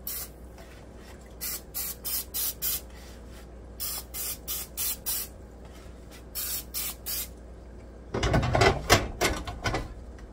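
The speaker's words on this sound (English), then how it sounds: "now I'm going to spray this with olive oil spray" Repeated short hissing bursts of olive oil spray onto an air fryer basket in quick groups, fairly close, followed by a louder clattering rustle at the end.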